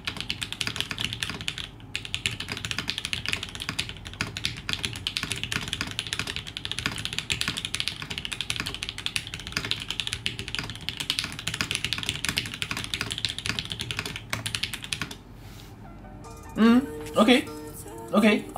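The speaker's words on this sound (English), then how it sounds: "The typing sound is definitely a bit different." Rapid continuous clatter of keys typed on a rebuilt TGR Alice mechanical keyboard close up, ending abruptly as a voice begins speaking.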